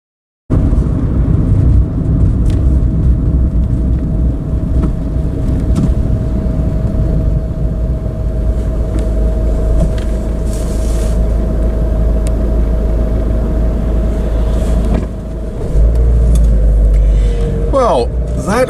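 A car engine idles and runs steadily close by, a low constant rumble with a faint whine, before shifting near the end as it moves off; a voice talks briefly.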